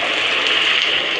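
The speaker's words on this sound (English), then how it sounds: "It's raining hard, man." Heavy rain pours in a thunderstorm as a steady, dense hiss that holds at an even loudness from start to finish, with no voices over it.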